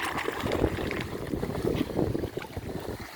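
Underground water in a mysterious cavern surges and rumbles like waves striking, a continuous low churning wash with rolling swells and no voices.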